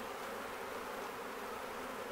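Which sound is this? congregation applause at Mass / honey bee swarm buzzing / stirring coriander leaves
honey bee swarm buzzing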